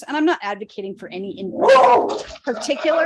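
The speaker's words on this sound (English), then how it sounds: "my dog's barking." A dog barks in the background at home during a classroom engagement talk, short yips rising over continuous close speech from a single talker, the barking partly masked by the voice.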